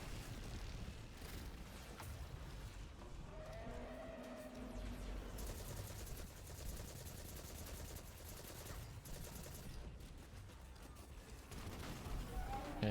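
Rapid bursts of gunfire from a firefight in Destiny 2 against a harpy, fairly faint and blended with a continuous roar of game effects.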